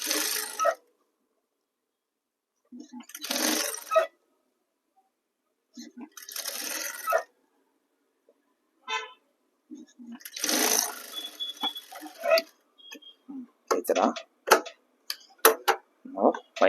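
A sewing machine stitches a folded blouse lining for a work blouse in short bursts of whirring and ticking, separated by pauses, with quick clicks and handling noises toward the end.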